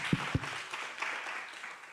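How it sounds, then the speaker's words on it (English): A conference audience applauds at the close of a talk, opening with two sharp, loud claps and then fading into a softer, diffuse patter of hands that tapers off over about two seconds. "one more round of applause, please"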